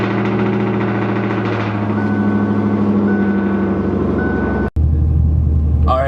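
Ford Mustang with a straight-pipe exhaust running loud and close, a rough, steady idle drone. It drops out sharply for a moment near the end, then rumbles back.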